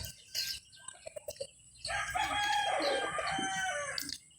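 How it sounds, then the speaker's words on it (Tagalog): A dark mother hen on a farm clucking, a few soft scattered clucks followed by a louder drawn-out squawking call from a nearby chicken, with no talk. "Yan oh, yan yung inahin."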